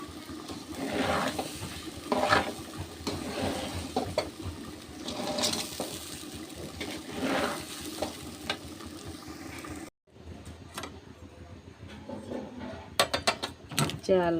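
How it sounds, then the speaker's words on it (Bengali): Rice frying in ghee in a pan, with a steady sizzle and repeated scraping and clinking of a spoon as it is stirred, all fairly quiet and close, followed by a short pause and a few sharper utensil knocks. "যে চালটা আমি ভেজে নিচ্ছি চালের ভিতরে দুই চামচ ঘি দিয়েছি"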